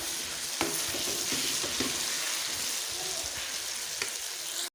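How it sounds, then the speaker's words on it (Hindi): Chopped potatoes frying in spiced masala give a steady, fairly quiet sizzle, with occasional stirring scrapes and clinks throughout and no voices. "अब मसाले में कटे हुए आलू भी शामिल कर देंगे और इनको भी साथ भून लेंगे"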